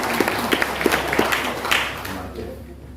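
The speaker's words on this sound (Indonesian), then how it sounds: "Tepuk tangan untuk Ibu." Applause from an audience at a gathering of religious-affairs civil servants, a moderately loud patter of clapping that tapers and fades toward the end, with a voice briefly over it.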